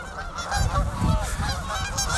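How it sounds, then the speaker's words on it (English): Goose honking on ice beside open water, a few harsh honks close by against steady outdoor noise. "there's a goose"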